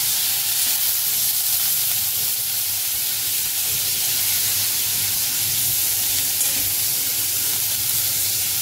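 Paneer frying in hot oil in a pan, a steady loud sizzle and hiss that runs evenly throughout with no break.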